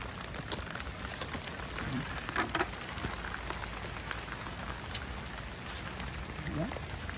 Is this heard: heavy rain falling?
yes